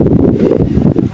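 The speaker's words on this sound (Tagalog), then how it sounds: "Lakas na rin yung hangin." Strong wind buffets an outdoor spot of dense brush and water spinach near a tree, a steady loud low rumble with gusty fluctuations throughout and no talking.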